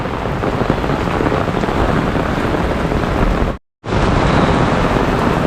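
Heavy monsoon rain pours in Mumbai's Thane area during a thunderstorm, a dense continuous hiss of downpour that cuts out abruptly for a split second before resuming just as loud.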